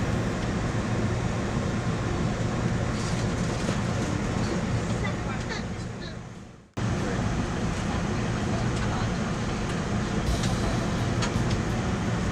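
An Amtrak Acela Express train departs Baltimore Penn Station, heard as a steady loud rumble and rolling roar. A brief dip cuts in midway before the sustained noise resumes.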